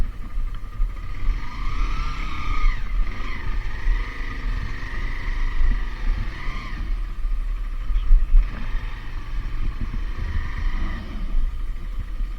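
A car engine rumbles steadily while driving slowly on a rain-wet mountain road at night in North Sikkim, with tyre and wind noise and a few shifting engine tones.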